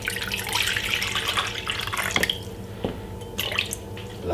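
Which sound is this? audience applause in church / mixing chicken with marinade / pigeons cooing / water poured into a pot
water poured into a pot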